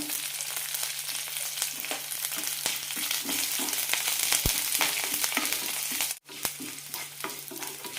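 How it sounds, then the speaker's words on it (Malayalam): Corn kernels and curry leaves sautéing in a pan for curd semiya, a steady close sizzle with repeated clicks and scrapes of stirring, one brief dip near the end, no voices. "ഒരു മിനിറ്റ് നന്നായി വഴറ്റി കൊടുക്കാം"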